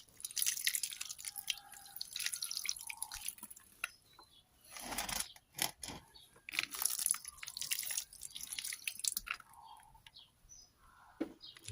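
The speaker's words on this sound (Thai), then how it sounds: "ราดรดแบบนี้ให้ชุ่มๆเลยนะครับ" Water is poured over young chili seedlings until the soil is soaked, giving scattered splashes and drips in uneven bursts, with faint birdsong in the background.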